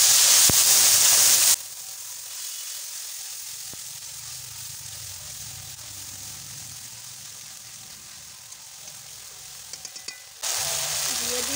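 Spice paste sizzling in hot oil over a cumin tempering for a rohu fish and cauliflower curry, with a steady frying hiss that flares loud at the start and end and settles to a softer crackle in between.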